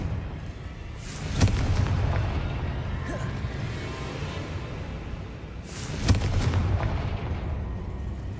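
Two heavy Confringo blasting-spell explosions in Hogwarts Legacy, each a sharp booming burst with a rumbling tail, spaced several seconds apart over a steady low game ambience.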